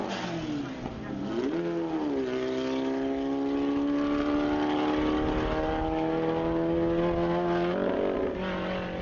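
A Volkswagen Beetle with a new engine launches on a drag strip at a Bug Jam event, its engine note revving up and then holding a loud, rising howl through the gears for the whole run.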